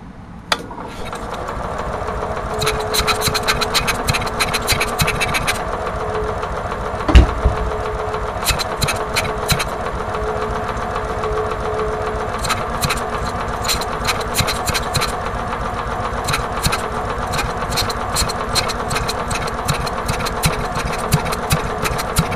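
Onan generator cold starting with a poorly working choke, a close, loud, steady mechanical clatter of a small engine with rapid ticking and knocking, and a brief thump partway through.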